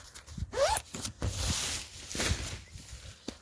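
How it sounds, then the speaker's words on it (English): Zipper on the door of a Kuiu Summit Star 1P ultralight tent: several quick, close zipping strokes with rasping pulls and short pauses, some rustling of tent fabric between them. "Double zips on the door so you can vent there as well."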